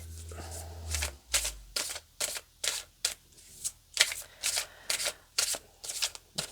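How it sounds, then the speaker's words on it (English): Tarot cards are shuffled and drawn close up, giving a steady run of crisp riffling and slapping bursts at an even rhythm. The sound is fairly quiet and has no speech over it. "Let's pull out a couple of these cards here."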